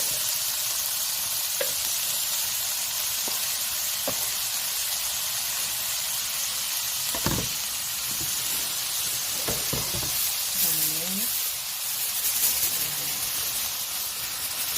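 Spinach and other vegetables stir-fry with meat in a pan for honey japchae. A steady, close sizzle runs throughout, with occasional clinks and scrapes of a utensil stirring.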